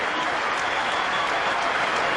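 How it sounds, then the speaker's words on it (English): A cricket stadium crowd in Sharjah gives a standing ovation, with steady, dense applause and cheering that fills the whole stretch at an even, loud level. "Getting a standing ovation from the crowd here in Sharjah."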